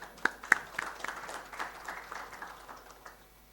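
Audience clapping at an engineering award ceremony marking a foundation day, a few sharp claps at first that then settle into moderate, steady applause, fairly distant and fading toward the end.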